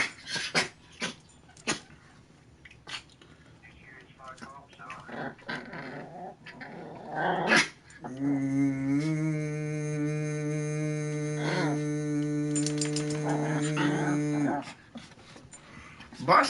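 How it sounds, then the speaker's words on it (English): A pet dog growls and whimpers in a low, sustained rumble with a droning tone, coming close and fairly loud, mixed with scattered clicks and brief background noises. "It's my freaking dog, Bus Turds."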